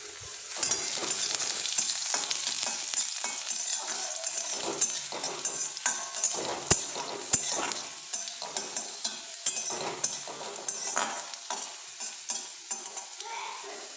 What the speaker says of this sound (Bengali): রসুন কুচিটা ভালো করে আমি এখন ভেজে নেব লাল লাল করে